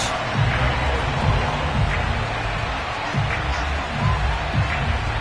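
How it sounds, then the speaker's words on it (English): Loud, steady roar of a sellout stadium crowd in an EA Sports football video game, Falcons versus Saints, with broad cheering swells throughout and faint commentary underneath. "Somehow this place got even louder a short time ago as the Falcons were introduced to this sellout crowd"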